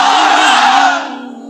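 Massed voices of a sermon congregation shout 'Allahu Akbar' together as a takbir, a dense, loud roar sustained for about a second, then fading into a thinner tail of the crowd's voices.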